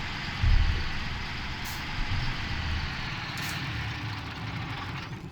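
A John Deere 6250 tractor engine in a farming game runs at a steady, whiny drone, with a low thump near the start and faint hissing bursts on top, moderately loud and unbroken.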